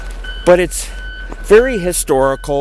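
A snow-clearing vehicle's reversing alarm sounds in a few loud, close electronic beeps, partly overlapping someone speaking nearby.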